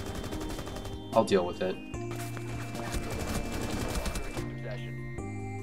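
Gunfire in the Rainbow Six Siege video game: a short burst of sharp shots early on, then game sounds and faint clicks while a player talks.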